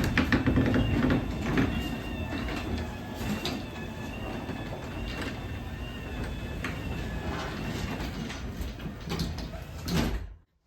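A LiftMaster 87504 garage door opener closes a Haas garage door with a continuous mechanical motor hum, a whirring drive and faint rattles. The sound stays even for about ten seconds, then swells briefly and cuts off as the door seats.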